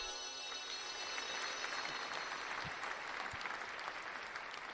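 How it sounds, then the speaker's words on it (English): A podcast audience claps at length, a dense, continuous wash of many hands at an even, moderate level, with a few nearby claps standing out and no talking over it. "We're gonna go ahead and clap that up"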